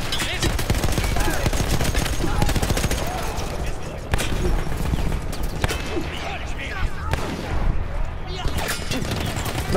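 Dense gunfire in the video game Battlefield 1, rapid shots and bursts crackling almost continuously, loud and close, with voices talking over it.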